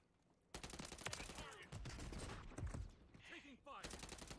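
Rapid bursts of gunfire in the video game Modern Warfare III, with dense overlapping shots and game effects filling the clip, fairly loud throughout after a brief quiet opening.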